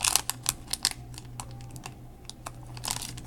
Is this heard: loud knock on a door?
no